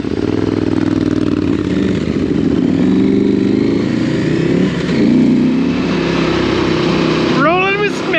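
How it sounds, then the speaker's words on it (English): A KTM 990 motorcycle with an aftermarket 2-in-1 exhaust rides at speed, its engine droning loud and close with steady wind rush, a few rising revs and a brief whistle-like tone near the end. "He just ran a 2-in-1 exhaust on it as well and got rid of the stock exhaust."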